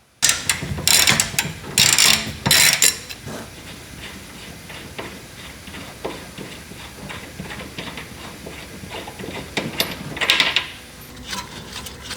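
Ratchet wrench loosening 18mm control arm bolts on a Nissan Pathfinder, with bursts of rapid clicking up close, a few seconds of lighter mechanical fiddling, then another short ratcheting run near the end.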